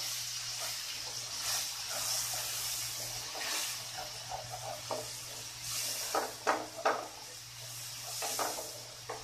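Chili-turmeric spice paste being stirred into jackfruit curry in a pan, with a steady sizzling hiss and scattered scraping clicks from the spoon, moderately quiet.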